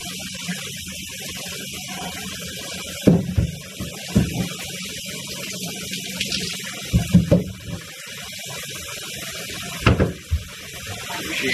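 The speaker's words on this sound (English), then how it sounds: "So I'll go ahead and rinse it all down with all that hot water." Hot running water splashes and sprays steadily while rinsing a reptile enclosure, with a few louder bursts and knocks as the stream hits surfaces nearby.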